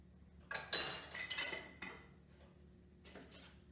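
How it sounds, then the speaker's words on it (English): A whisk knocks and clinks against a bowl while breakfast ingredients with cinnamon and salt are mixed, giving a few quiet, scattered bursts of metallic rattling with short pauses between them. "And then you're going to whisk that all together."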